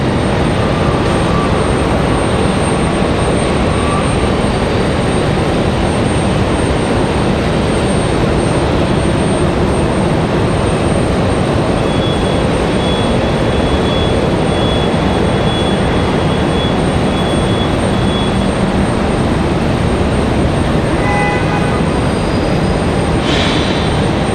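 A Cirrus Vision Jet G2 comes in to land at Raleigh Durham International on a stormy day, a loud, steady broadband jet roar that holds throughout with no talking.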